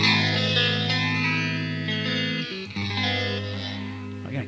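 Electric guitar through a phaser effect pedal, sustained chords with a sweeping, swirling tone that shifts as notes change, loud and alone without talk.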